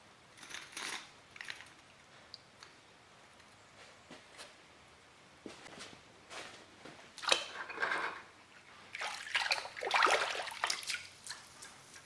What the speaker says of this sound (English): I got a bucket of water here. I'll rinse them off in